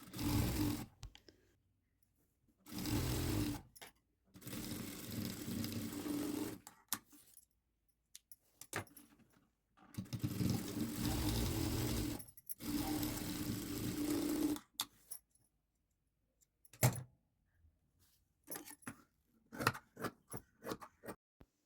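A sewing machine stitching a blouse runs in several bursts of steady mechanical whirring, each a few seconds long, with quiet gaps between them and light clicks and handling noises near the end. No talk.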